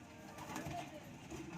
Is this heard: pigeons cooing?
yes